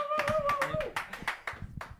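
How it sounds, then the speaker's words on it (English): Clapping from an audience at a World Cup climbing event in Innsbruck, a run of sharp separate claps under a voice, thinning out toward the end. "Big clap, yeah."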